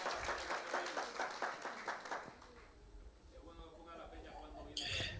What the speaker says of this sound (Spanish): le vamos a dar un fuerte aplauso al doctor